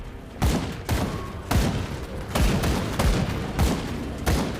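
A mortar trap fires in the Grim Dawn video game, a series of about seven heavy booming blasts spaced roughly half a second to a second apart, each with a rumbling tail.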